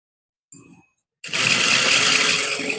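A sewing machine runs steadily while stitching a blouse, starting after a short hum and pause and continuing as a loud, close, even whir.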